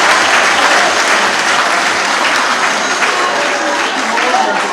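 Sustained, dense applause from a press conference audience in Dakar, steady and loud throughout with no break.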